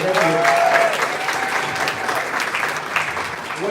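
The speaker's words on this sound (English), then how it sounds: "I want to say a round of applause for Casa Prepo." An audience at a creator meet-up in Ghana breaks into a steady round of applause, dense clapping filling the room throughout, with a few faint voices and cheers mixed in.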